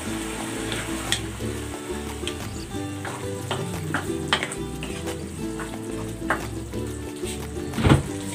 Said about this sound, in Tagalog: Ilalagay ko na tong patatas at ang carrots.